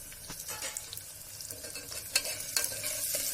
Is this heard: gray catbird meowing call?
no